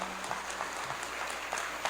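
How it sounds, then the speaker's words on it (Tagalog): Crowd in Marinduque applauding the provincial governor, a continuous, fairly distant wash of many hands clapping without a break. "nakikita ko na mas malakas ang palakpak dito sa Marinduque kaysa ibang probinsya"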